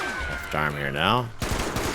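Gunfire against a Protectron robot in the video game Fallout 76, a burst of shots mixed with a rising electronic whine and game effects, loud and close.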